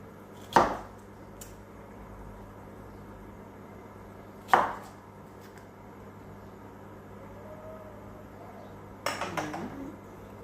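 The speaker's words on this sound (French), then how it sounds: "Il est un peu grand celui-là. Je vais le couper en deux." Knife strokes cut raw vegetable pieces in half on a board for a plancha of crudités, three distinct sharp chops spaced a few seconds apart in a quiet room, the last a short cluster.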